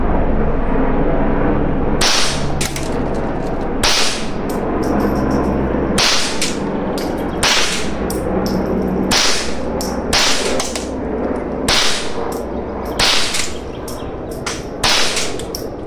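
A Mauser 1911 .22 LR pistol fired with a sound suppressor, giving about a dozen sharp, muffled shots at uneven intervals over steady outdoor background noise.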